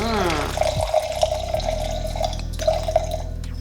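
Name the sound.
pouring canned Edna Valley Pinot Noir into glass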